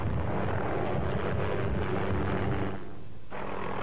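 Helicopter in flight over a crowd at a race circuit, a loud continuous rumbling roar with whooshing rotor noise that briefly dips near the end, heard alone without voices.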